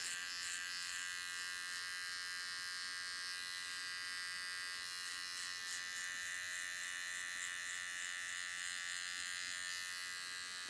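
Electric trimmer buzzing steadily during a taper haircut while cleaning up neck hair, a continuous high-pitched hum close by with slight shifts in tone as it moves, no talking.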